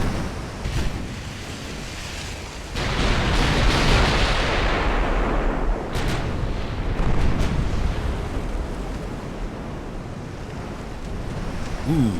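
Heavy 8-inch casemate guns boom from a warship in a naval battle in Ultimate Admiral: Dreadnoughts, with deep broadband blasts and rumbling roars rolling over continuous sea-like noise, loud and sustained.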